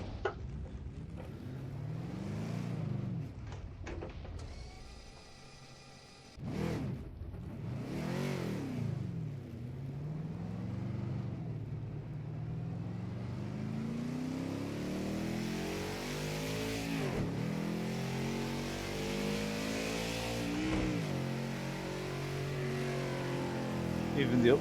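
Simulated car engine in Project Cars 2 racing game revving up and down through heel-toe downshifts, rising and falling pitch sweeps with blips, then a long climbing rev; steady and fairly loud throughout.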